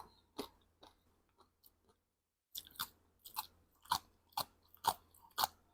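Crunchy bites and chewing of spicy Thai cucumber salad, close to the mic, with sharp crisp crunches coming one after another after a brief pause.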